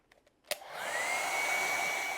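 A handheld hair dryer switches on with a click and then blows steadily to dry wet acrylic paint, a close, constant whooshing whine.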